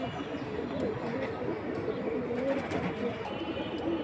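Pigeons cooing at a pigeon sale, a dense, continuous low murmur of many overlapping coos close by, with faint background chatter.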